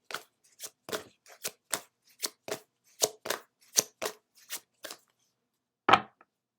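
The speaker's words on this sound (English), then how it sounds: "we'll pull a final card from the Work Your Light deck" Cards are shuffled and pulled from the Work Your Light oracle deck, giving a run of about a dozen crisp, evenly spaced riffling snaps followed by one sharper card flick after a short pause. Close and clean, with no talking.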